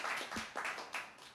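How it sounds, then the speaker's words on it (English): Scattered audience clapping at a health-technology conference: a few separate claps land over about a second and a half, faint and fairly distant in a quiet hall. "I think deserves an applause"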